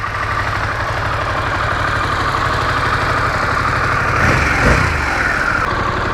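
A Harley-Davidson Pan America adventure motorcycle engine idles with a steady, low throbbing rumble throughout, close and even, with a slight swell near the end.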